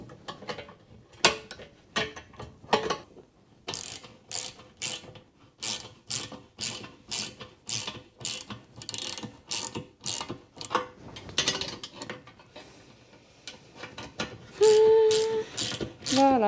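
Ratchet clicks in quick repeated bursts as one end of a dent removal tool is tightened on a two-stroke exhaust expansion chamber, the close mechanical ticking running in rhythmic strokes with brief pauses and a louder metallic stretch near the end.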